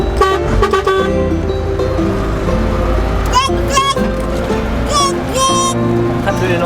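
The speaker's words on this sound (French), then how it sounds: "Klaxon." Car horns honking in a busy souq street in Oman, with several toots and beeps rising over steady traffic and crowd noise.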